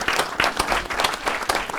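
Audience applause at a talk event, a brief burst of dense clapping from a crowd, fairly close and steady for under two seconds.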